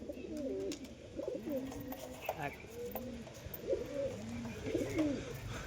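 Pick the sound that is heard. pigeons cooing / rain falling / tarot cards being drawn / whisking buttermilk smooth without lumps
pigeons cooing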